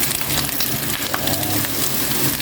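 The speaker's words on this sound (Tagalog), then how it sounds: "Tapos nagigisa na tayo. Bawang." Garlic sautéing in a hot pan, a loud continuous sizzle and hiss close by with no talking.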